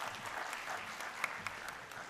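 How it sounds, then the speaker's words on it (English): Quiet, distant applause from an audience at a university research conference, a steady patter of many hands clapping with a couple of sharper claps standing out. "A huge round of applause for ma'am"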